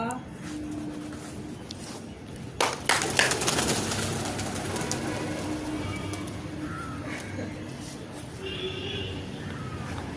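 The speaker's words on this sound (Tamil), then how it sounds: "புறாலாம் அங்கே அவ்வளோ உட்காந்துருக்குப்பா" Pigeons cooing at a Hindu temple, the Karaiveeranatha Swamy shrine, with soft, low coos repeating under a steady outdoor hum of ambient noise and a few sharper clatters midway, heard from a moderate distance.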